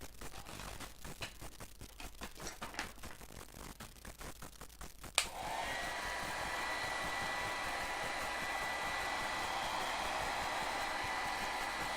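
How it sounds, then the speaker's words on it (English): A handheld blow dryer switches on after a few seconds of rustling and handling, then runs with a loud, steady whoosh to the end. "So let me get the blow dryer."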